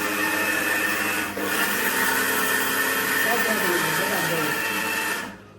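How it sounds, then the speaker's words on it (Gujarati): A mixer grinder grinding almonds whirs steadily and loudly with a rough, gritty motor drone, nearly continuous apart from a brief dip, until it cuts off at the end; voices talk over it. "પ્રાસી માટે બદામ વાળું દૂધ રોજ સવારે પીવે એના માટે મમ્મી બદામ દળી રહ્યા છે"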